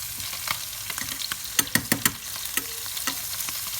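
Fresh line-caught fish frying in butter in a pan: a close, steady sizzle with a few sharp clicks and scrapes, no voices.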